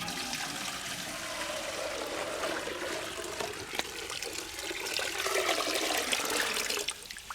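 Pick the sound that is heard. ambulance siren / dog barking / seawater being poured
seawater being poured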